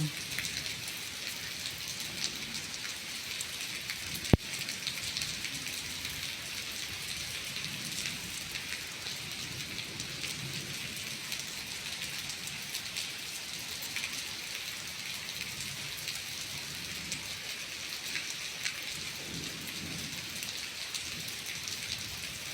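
Heavy rain pours steadily on a hilltop temple pavilion near a cliff, a dense unbroken hiss with wind mixed in and one sharp crack partway through.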